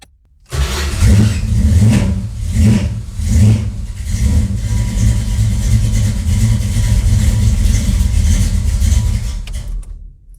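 A 1968 Dodge Dart 340 GT's V8 starts up and runs loud and close in a garage, with a few pulsing revs early on, then a steady rough idle until it cuts off.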